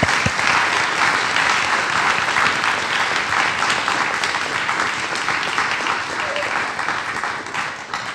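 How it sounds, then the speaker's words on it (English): Sustained audience applause fills the room for the organizers of a film screening event, steady and dense throughout, loud and close with no pause. "I want to have two rounds of appreciation and applause here."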